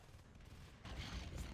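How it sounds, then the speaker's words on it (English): Grenades bursting against an alien Hive in Natural Selection 2, heard as a loud, dense wash of blasts that erupts partway through and continues in a rapid, rumbling barrage. "So here come the nades on the Hive."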